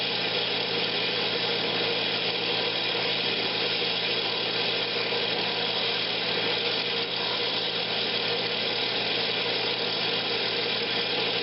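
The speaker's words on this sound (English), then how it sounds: "Apply it the same way, just rub it on there, spin it up, let it get nice and warm" A wood lathe spins a Christmas ornament while finish is rubbed onto it, giving a steady, close mechanical whir with a faint rubbing hiss, continuous and unchanging, with no talking.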